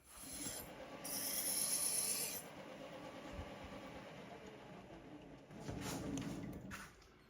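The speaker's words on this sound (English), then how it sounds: "you're going to file, you've got a lot of filing to do" A hand file rasps across a metal engine flywheel in a few long, scratchy strokes, fairly close and on its own.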